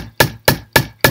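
A hammer drives a nail into the wooden roof of a bird feeder with four sharp, evenly spaced strikes, loud and close, with no talking.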